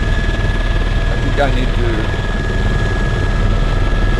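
A steady helicopter engine and rotor drone from the video game Flight Simulator X, flown in VR over Los Angeles, humming continuously throughout while someone speaks over it briefly.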